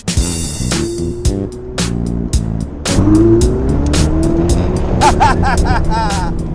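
A Ferrari 488 Spider engine revs and roars repeatedly, loud and close, with sharp bursts of exhaust, rising tones as it accelerates, and tire squeal.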